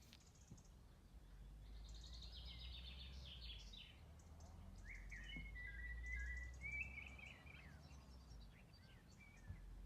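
A blackbird sings behind a watercolour painter, its fluting, warbling phrases repeating clearly over a low background rumble, fairly close and prominent throughout.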